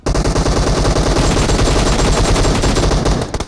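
Sustained rapid automatic gunfire in PUBG Mobile, loud and dense bursts running almost unbroken for a few seconds with no talking.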